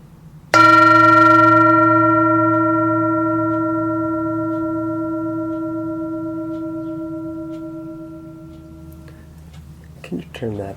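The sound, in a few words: meditation bell ringing during Buddhist service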